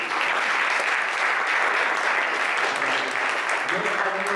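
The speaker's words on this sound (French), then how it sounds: "On les applaudit encore" An audience at a blockchain event gives the organizers a loud, continuous round of applause, dense clapping that stays steady throughout with a few voices faintly underneath.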